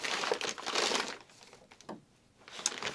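Someone rummages through a bag of crafting items such as roving and scissors, with bursts of crinkling and crushing rustle that pause briefly midway and then pick up again.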